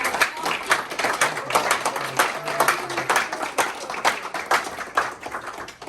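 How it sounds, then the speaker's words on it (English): Audience in a New York State Assembly hall applauds at a Mount Everest day declaration program, a moderately sized crowd clapping in a lively, uneven patter that carries on steadily without talk over it. "give yourself a round of applause"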